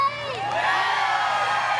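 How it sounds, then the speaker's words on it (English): A parade crowd at the Edmonton K-Days Parade 2019 erupts in loud, sustained cheering, with children shouting and whooping, the roar holding strong for its full length. "Now that's the cheer I was looking for."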